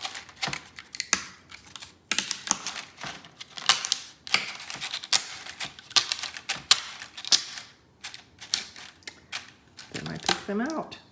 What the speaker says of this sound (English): I push down so that the staples are kind of loose